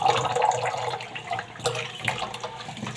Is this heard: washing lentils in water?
yes